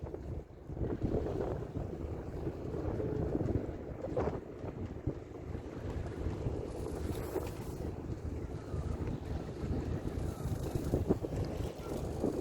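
A yacht motoring out of Dartmouth harbour on a summer cruise, with a steady low engine and water rumble under heavy wind buffeting on the microphone, continuous throughout with no speech.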